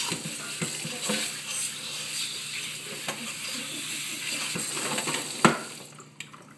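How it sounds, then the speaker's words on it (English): A kitchen sink sprayer washes celery stalks, making a continuous close rush of spraying water with intermittent knocks and clatters, and a louder splash near the end before it quiets. "I like to use the sprayer method to get all of the dirties and pubes off of the celeries."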